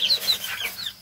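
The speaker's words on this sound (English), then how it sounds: "You silly chicken." Farm chickens clucking in a brief burst of short, repeated calls, fairly close and with no talking over them.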